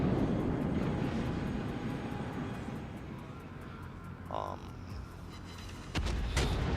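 Naval video game battle aboard a warship: continuous engine and aircraft drone with a sharp burst of gunfire and booms near the end, a loud roaring bed throughout.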